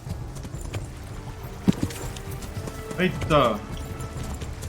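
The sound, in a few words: horse galloping hooves in video game Kingdom Come: Deliverance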